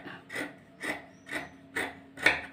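Scissors cutting blouse fabric along a marked line, a rhythmic series of five close, crisp snipping rasps about half a second apart, alone without talk.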